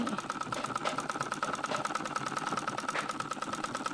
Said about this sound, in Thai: เอาเสร็จแล้วก็เย็บแนวตรงตรงนะคะ ตรงตรงเลยนะ